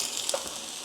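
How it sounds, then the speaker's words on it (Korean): Onions fry in a lightly oiled hot pan for japchae, giving a soft, steady hiss with faint crackles, close and quiet. "이렇게 팬을 달구고 양파를 먼저 볶아줄게."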